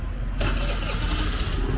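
A small 50cc Kymco Like rental motor scooter in Nha Trang starts with a sudden burst and then runs steadily close by, while voices talk faintly underneath.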